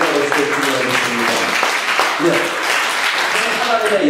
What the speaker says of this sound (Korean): 뜨겁게 박수 치시는 거예요